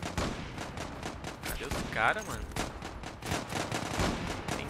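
Rapid bursts of gunfire in the online shooter Zula, sharp repeated shots in quick clusters throughout, with someone talking over them.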